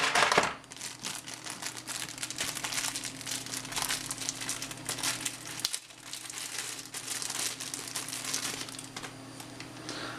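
A small plastic bag holding USB microphone accessories crinkles and rustles steadily and close up for about ten seconds, with one brief pause partway through.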